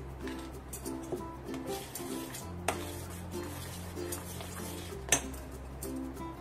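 A spoon mixing chopped nuts, charoli and cardamom into mango shrikhand in a bowl, giving soft scraping strokes and a few sharp metallic clinks against the bowl over a steady musical background.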